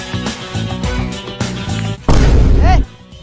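Background music plays, then a loud booming firecracker blast bursts out for under a second, with a crackling, rumbling burst of explosions up close.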